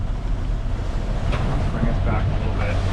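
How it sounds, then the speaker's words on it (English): Steep ocean waves slapping a sailboat on a rough passage toward the Bahamas, a continuous loud wash of water and wind noise buffeting the microphone without pause. "These are nice, steep waves."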